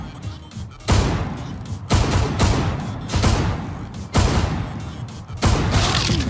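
Desert Eagle pistol fire in a one-on-one shooter game match, sharp loud shots arriving one at a time at irregular intervals of about a second, each with a short ringing tail.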